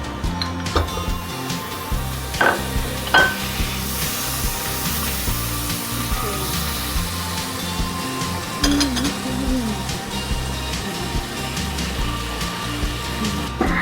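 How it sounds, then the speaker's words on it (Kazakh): Butter melting in a hot pot for pumpkin soup, sizzling steadily under clinks and scrapes of utensils against the pot. "енді біз қызып тұрған қазанға сары май саламыз"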